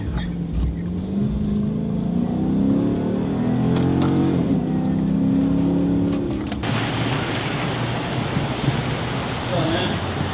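A police car accelerating to make a traffic stop, its engine note rising and revving under steady road noise before the tone cuts to a rougher rushing sound.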